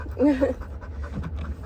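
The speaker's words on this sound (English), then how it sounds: "I mean, Lotus is panting, but that's also because we were just playing" A dog pants quickly and rhythmically right after playing, close and steady, with a person speaking briefly over it.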